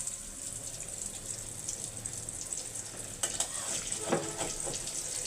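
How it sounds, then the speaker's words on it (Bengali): Small dried fish frying in a pan for a mashed dried-fish dish, a steady sizzle throughout with a few louder scraping stir sounds toward the end, close up and with no voices. "আস্তে আস্তে মাছগুলা ভাজা হোক"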